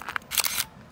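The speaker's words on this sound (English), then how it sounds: "All the flash still fires." A Minolta film camera with a broken shutter fires its flash: a quick mechanical click followed by a brief, bright whirring burst, faint and close, alone without voices.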